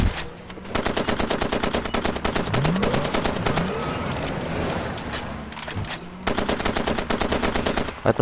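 An enemy gunner's machine gun in Far Cry 2 hammers out long, rapid bursts, loud and close, with a short pause in the middle before the firing resumes.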